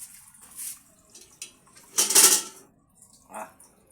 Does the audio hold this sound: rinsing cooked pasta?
yes